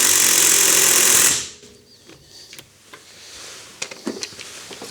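A Lidl Parkside impact wrench tightens a car lug nut with a loud, dense hammering burst lasting over a second, then stops abruptly, leaving light handling clatter and clicks.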